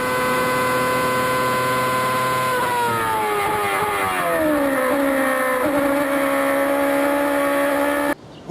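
A Formula One car on a lap, engine screaming at high revs and then dropping in pitch through a downshift as it brakes from about 300 to 150 km/h. The engine is loud, close and continuous, with no talk.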